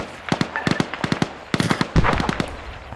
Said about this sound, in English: That was me throwing a frag.